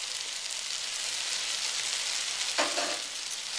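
Chili powder and spices frying in a pan of oil for South Indian tomato rice give off a steady, close sizzle throughout, with a brief louder crackle burst partway through and no talking.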